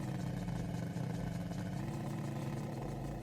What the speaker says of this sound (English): The engine sounds like it's perpetually about to give up the ghost.